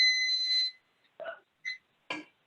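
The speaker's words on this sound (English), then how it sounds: "my timer just went off" A loud kitchen timer goes off while a one-pot pasta sauce simmers, giving a steady high electronic tone for under a second, followed by a few short clatters and knocks.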